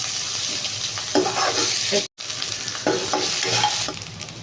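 Brinjal pieces fry in a pan as onions go in, giving a steady close sizzle with stirring scrapes and a momentary cutout near the middle, with no voices.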